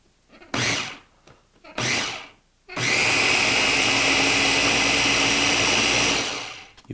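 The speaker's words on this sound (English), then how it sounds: "Get the top of the Ninja Blender on there." Two short whirring pulses from a Ninja blender blending garlic and seasonings, then a loud continuous blending roar for several seconds before it winds down.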